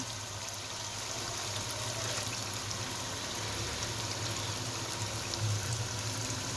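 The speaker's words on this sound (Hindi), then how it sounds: "अभी मैं इसमें ऐड करूँगी 2 गिलास पानी।" Water pours steadily into a karahi of half-fried potatoes in oil for a dhaba-style aloo karahi. A continuous, moderately quiet rushing and sizzling runs throughout over a low background hum.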